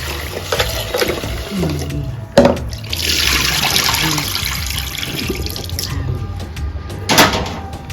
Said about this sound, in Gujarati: બે ત્રણ પાણી ખીચડી ધોઈ નાખવાની